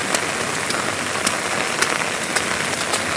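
Steady rain pours down by a dining room with a half wall, a dense even hiss with scattered sharper drop ticks throughout, close and continuous with no voices.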